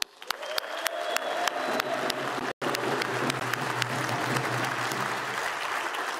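A large audience claps in sustained, dense applause at a Charlotte event celebrating the city's new MLS expansion team. The applause starts sharply, drops out for a split second, then continues steadily at full strength.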